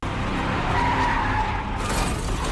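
In a Korean drama scene, a car's tires skid hard as a truck rams the vehicle: a loud, close, sustained screech and rumble lasting a couple of seconds, with no voices.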